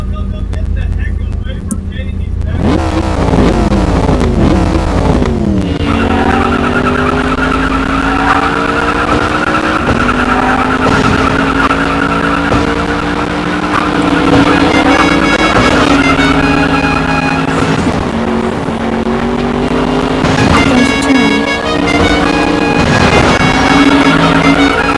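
Muscle cars racing with tires skidding and squealing loudly throughout, long sustained screeches over roaring engines, close and continuous.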